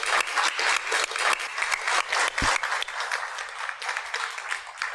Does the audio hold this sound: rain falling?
no